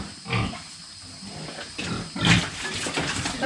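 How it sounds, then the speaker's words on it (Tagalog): A pig on a farm in Occidental Mindoro grunts and squeals in a few short, close bursts over a steady background hiss. "Ganyan daw ba itong pagpaalaga magpaamo ng baboy."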